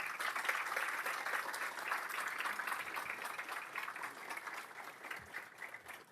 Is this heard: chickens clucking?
no